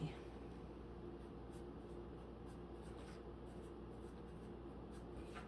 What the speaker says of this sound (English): I'm going to write hugs and kisses, Susie.